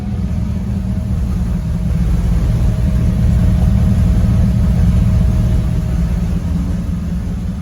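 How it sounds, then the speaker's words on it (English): A deep Ford Bronco engine exhaust rumbles steadily up close at the tailpipe, swelling slightly louder in the middle before easing back. "Sounds pretty nice out the back."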